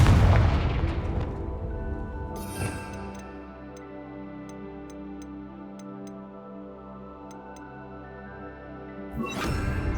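A Hogwarts Legacy fire-blast spell bursts loudly at the start, and a scatter of small ticking impacts trails off over a sustained low musical bed. A second blast flares near the end.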